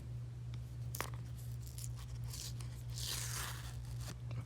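Adhesive tape is peeled from a Samsung Galaxy M11 phone during repair, giving soft tearing and crackling strips over a steady low electrical hum, close and quiet with no talking.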